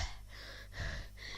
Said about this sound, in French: Je suis essoufflé.